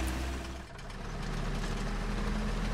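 A half-track truck's engine idles in the war game Foxhole: a steady, close, low rumble that dips briefly near the start and then holds even and loud.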